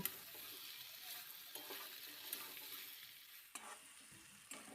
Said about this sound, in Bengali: এখন ডাঁটা আলুগুলো মশলার সাথে এইভাবে মিশিয়ে নিচ্ছি